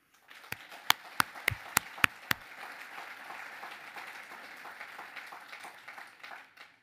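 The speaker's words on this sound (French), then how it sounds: "Je vous invite à les applaudir" A few loud, close claps ring out one after another, quickly joined by broader applause from an audience at a French municipal New Year's greetings ceremony, the clapping continuing steadily for several seconds before tapering off.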